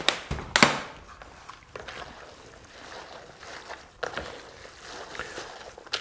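Wet, sloshing churning sounds repeat as dense ground sausage meat with ice water is mixed and squished by hand, with a few sharper knocks early on.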